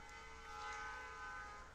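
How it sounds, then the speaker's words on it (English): A train passes nearby, its sustained horn-like tones holding steady over a low rumble for the whole stretch, fairly faint and with no talking. "Of course, I'm recording, and there's a train."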